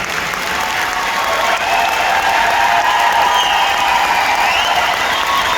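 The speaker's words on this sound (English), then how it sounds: "Please give them a big round of applause" Loud, sustained applause from a large audience at a doTERRA convention in Poland, a dense unbroken roar of clapping with light cheering mixed in, steady throughout and with no talk.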